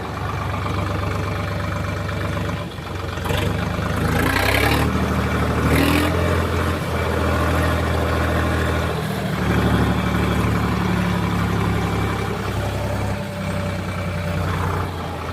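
A tractor engine runs near floodwater, a loud steady diesel drone with a few revs and shifts in pitch, heard close and alone for about fifteen seconds.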